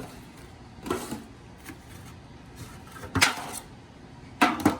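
Four metal loaf pans handled on a kitchen counter: several close, hollow metallic clanks and scrapes come in small irregular clusters with quiet gaps between, and no talking.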